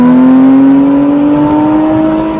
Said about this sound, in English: Let's conquer the dragon with a loud engine roar.